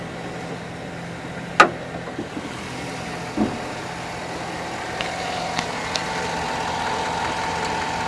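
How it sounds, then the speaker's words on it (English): A 2007 GMC 4x4 truck engine idles with a steady low rumble, punctuated by a sharp click and a few faint knocks. "let's get a quick shot of the engine."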